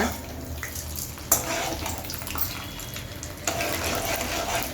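Bitter gourd frying in a pan for a jaggery tamarind curry, with a steady broadband sizzle and crackle running throughout, two brief louder bursts as pieces are stirred or added, and no talking.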